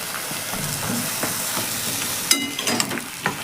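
Beans with onion and eggplant frying in a pan, a soft steady sizzle with a few sharp clanks and scrapes of a spatula stirring near the end.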